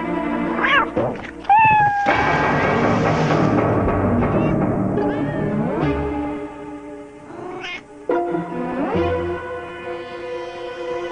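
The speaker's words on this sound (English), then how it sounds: "Just stay still, kitty." A cartoon cat meows and caterwauls close and loud, a run of rising and falling wails over about eleven seconds with short gaps and a soft thunk.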